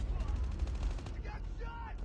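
Rapid bursts of gunfire crackle in a shooter video game, dense and close, with brief game voice callouts in the mix.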